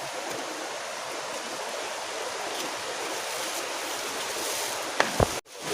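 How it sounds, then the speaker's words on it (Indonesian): Broad, steady rushing of a large river in the Amazon, a continuous close wash of water with no pauses, ending in a brief thump and a sudden cut. "Sungainya besar sekali teman-teman."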